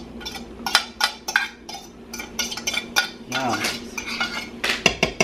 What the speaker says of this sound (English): we're just gonna saute just till they have a little bit of color